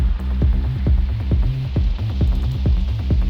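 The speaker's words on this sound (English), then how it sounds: "Filter modulating this sample. This filter modulating the sound." Deep pulsing techno synth tone swells and dips in a repeating rhythm, a throbbing filtered sweep rising and falling several times as a filter modulates the sample, loud and close.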